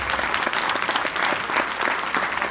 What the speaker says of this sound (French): Je vous demande d'applaudir très très fort Marie-Hélène Malraux.